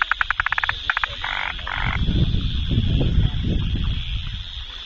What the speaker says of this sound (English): This is a tree frog which is called Malabar gliding frog.